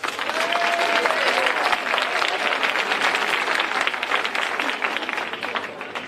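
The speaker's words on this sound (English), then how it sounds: "Let's give them a round of applause." An audience applauds incoming ninth graders at a high school event, with dense, sustained clapping that fills the whole stretch at a steady level before easing slightly toward the end.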